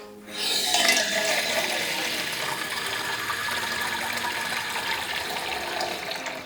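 Tap water runs steadily to refill a dog's water bowl, a continuous close rushing and filling hiss that holds at an even level for several seconds with no talk.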